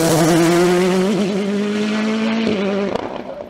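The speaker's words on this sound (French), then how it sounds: "Cédric Lansard lance également sa nouvelle voiture en compétition, une Norma M20 FC E2SC Turbo munie de la bride" A Norma M20 FC E2SC turbo race car, fitted with an intake restrictor, revs hard at a hill climb at Bagnols-Sabran. The engine holds a loud, close, sustained note, wavers briefly, then fades away toward the end.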